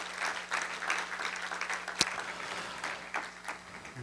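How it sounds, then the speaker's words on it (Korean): An audience in a church revival service claps steadily in a room, a dense, even patter of applause lasting several seconds. "그냥 앉아 있는 대로 한번 박수 쳐 주시기 바랍니다."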